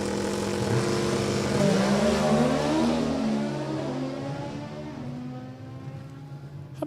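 Drag racing cars at a dragway, a big 4-cylinder and a small V8, roaring loudly as they accelerate down the strip, the engine note sweeping upward and then fading into the distance.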